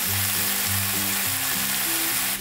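Chicken curry masala sauce fries in a pan over medium heat, giving a loud, continuous sizzle that stays steady throughout, with no voices.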